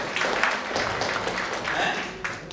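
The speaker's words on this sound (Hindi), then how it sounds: "अरे वाह जोरदार तालियां भाई" An audience at a cryptocurrency teaching session breaks into loud, dense applause that runs steadily for a couple of seconds, rising and falling slightly with no clear individual claps standing out.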